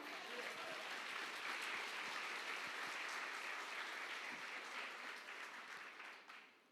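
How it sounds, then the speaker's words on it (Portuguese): Sustained applause from a church congregation at an evening service, a dense, even rush of many hands clapping that holds steady before tapering off at the end. "Você pode aplaudir o Senhor?"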